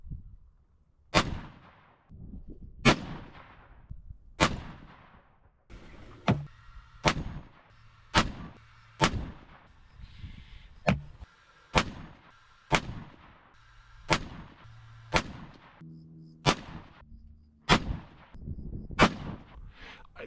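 Repeated rifle shots from a Ruger American Gen 2 in 6.5 Creedmoor at an outdoor range. About a dozen sharp, booming reports come at irregular intervals of one to two seconds, each ringing off, with quiet gaps between and no talking.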